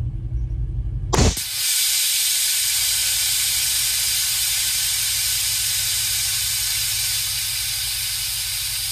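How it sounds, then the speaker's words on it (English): Air suspension on a Range Rover L322 purging air: a sudden loud, steady hiss bursts in after a brief quiet moment and holds strong, close and continuous to the end. "Blooming loud when I do the purge."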